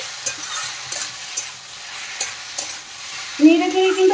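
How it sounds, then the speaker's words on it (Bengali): Ridge gourd softened with salt is stirred and sautéed in a pan, with scraping spatula strokes over a steady sizzle that grows louder near the end. "নেড়ে কিন্তু ভালোভাবে কষিয়ে নিতে হবে।"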